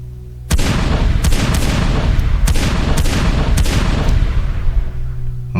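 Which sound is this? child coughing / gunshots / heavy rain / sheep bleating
gunshots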